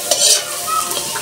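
Rice vermicelli stir-fried with carrots in a hot pan, a quick burst of close spatula scraping over a constant sizzle.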